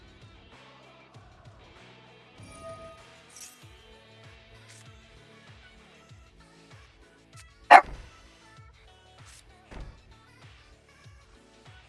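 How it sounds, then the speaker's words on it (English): A dog barks a few times at the door amid a quiet indoor room, with one sharp loud yelp standing out and softer faint sounds around it. "My dog likes barking when people are at the door."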